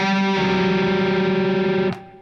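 Distorted electric guitar with effects plays a sustained string bend in a song, a loud held tone that rings for about two seconds before being cut off.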